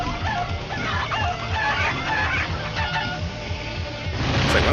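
Chickens cluck in the Crash Twinsanity video game, a steady run of clucks and fowl calls under dense game music and effects, moderately loud throughout.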